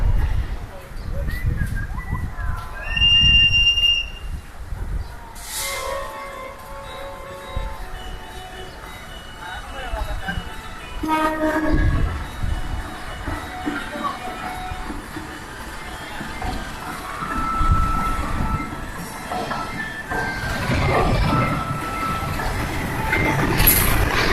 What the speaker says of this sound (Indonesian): dari jalur 2 masuk kereta api Argo Jati dari Cirebon